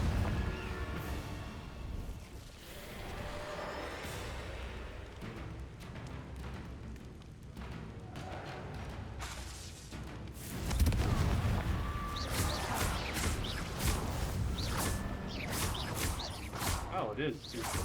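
Confringo blasting spells in Hogwarts Legacy, with rumbling booms and crackling bursts that swell louder partway through amid continuous game noise, while a player talks over the action.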